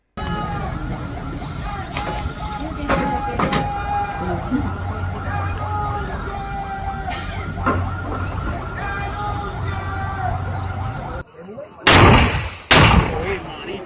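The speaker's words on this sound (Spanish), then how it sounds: "Nos están disparando con RPG, granadas, lanzagranadas, francotiradores." Gunfire and explosions from RPGs, grenades, grenade launchers and snipers in a combat scene, with sharp shots and bangs over a busy, noisy background and two loud blasts near the end.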